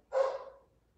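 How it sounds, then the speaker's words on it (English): A single short dog bark, fairly faint and somewhat distant, during a yoga class, fading quickly into quiet. "I don't know if you can hear my dog barking"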